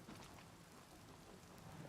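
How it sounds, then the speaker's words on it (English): Steady rain pours across the sky in Oblivion Remastered, broadband hiss filling the scene with rumbling thunder low underneath, a continuous calm storm ambience with no talk. "Enjoy this calming, rainy sky as we say goodbye to Cyrodiil for now."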